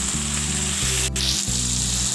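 Chopped onion and green chillies fry loudly in oil beside prawns, a strong continuous sizzle with a low hum underneath and one brief sharp scrape partway through.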